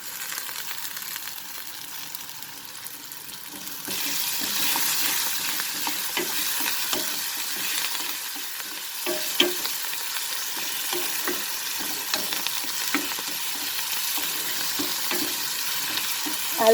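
Tomatoes with fresh coriander leaves and stems cook in a pan, giving a steady sizzle that grows fuller after a few seconds, with scattered stirring clicks and scrapes throughout; nobody speaks.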